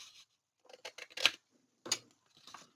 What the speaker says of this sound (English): I'm just going to trim a little more as straight as I can with the big scissors